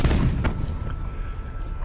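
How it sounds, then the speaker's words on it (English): Warship broadside cannon volleys in the space battle game Battlefleet Gothic Armada: a few sharp booming shots over a low rumbling ship drone, with another burst at the very end. "So we're just gonna circle it and use our broadsides on it"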